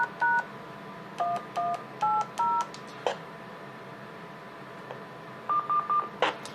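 Telephone-style DTMF keypad tones send a command to a simplex radio repeater: four crisp, evenly spaced beeps, then a short pause and a faster run of tones, clear against a quiet background.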